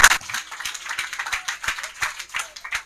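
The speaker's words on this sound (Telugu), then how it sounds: "కొట్టుగట్టిగా చప్పట్లు." A congregation claps loudly in a steady rhythm at a church sermon, sharp repeated hand claps filling the hall, with a voice speaking briefly at the start.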